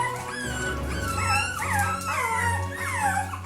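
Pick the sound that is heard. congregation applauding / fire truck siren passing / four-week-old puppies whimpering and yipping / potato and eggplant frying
four-week-old puppies whimpering and yipping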